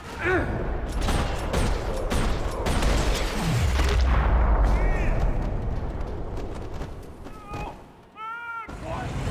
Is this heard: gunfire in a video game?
yes